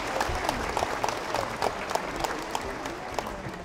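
A New Year's concert audience applauds the singer, a continuous dense ovation with some sharper individual claps standing out.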